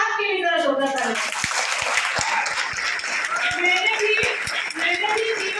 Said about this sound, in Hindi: अपने आप के लिए जरा जोरदार ताली